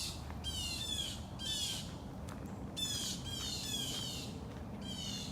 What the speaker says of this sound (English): it's a very rowdy bird